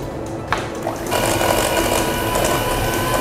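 An electric hand mixer whirs steadily through batter of sugar and egg, starting up after a brief clatter and running continuously near and loud.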